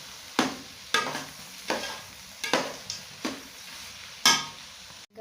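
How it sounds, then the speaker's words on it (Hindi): Peanuts are being stirred into thick carrot halwa in a halwai-style gajar ka halwa pan, making six rhythmic scraping strokes about a second apart, close and clear, with no voices. "यहाँ पे हम इसमें डाल देंगे पीनट और इसको कर लेंगे मिक्स"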